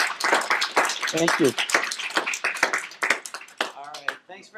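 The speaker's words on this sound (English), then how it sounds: "I'd just like to give you a round of applause" A University of Michigan Flint sociology class claps for a guest on a Skype call, sharp scattered claps mixed under close voices talking.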